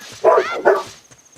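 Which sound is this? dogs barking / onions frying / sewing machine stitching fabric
dogs barking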